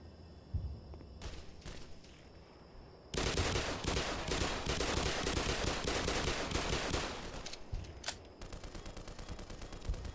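Video game machine gun firing in long dense rapid bursts, loud and sustained for several seconds after a few scattered single shots, with a steady electronic tone running underneath.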